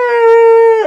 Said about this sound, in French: va falloir que tu bailles souvent.